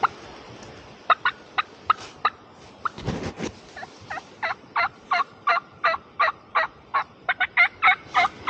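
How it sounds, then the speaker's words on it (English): A wild turkey calls in a sheltered creek bottom in a South Carolina national forest during spring hunting. Loud, clear notes repeat in a steady series, with a short rustling noise partway through. "He just gobbled, but didn't hear."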